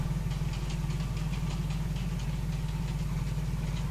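A ZIL-164 truck engine idles in the Spin Tires video game, giving a steady, even mid-low rumble with a faint rhythmic knock that runs unchanged throughout, with no talk over it.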